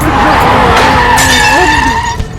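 Animated motorbike skidding with a loud, sustained tire squeal of wavering pitch and engine roar, heading into a crash with a truck; a brief crunching impact near the end.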